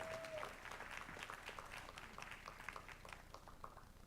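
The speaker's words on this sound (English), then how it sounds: "Let's give the alternates a big round of applause." Applause at a school board meeting for a team's alternates, a room of people clapping steadily throughout, faint and somewhat distant, with a brief tone at the very start.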